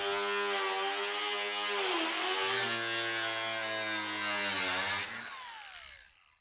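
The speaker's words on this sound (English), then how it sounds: "he's hole sawing it" A power drill whines steadily as a hole saw grinds through material, pitch shifting under load, then winds down at the end.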